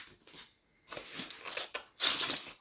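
Plastic film crinkles during the unboxing of a 27-inch Gigabyte M27Q monitor, short bursts of close crackling separated by brief pauses, with no talk.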